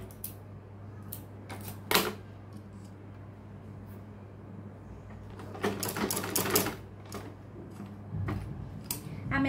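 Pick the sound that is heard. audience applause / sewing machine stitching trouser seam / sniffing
sewing machine stitching trouser seam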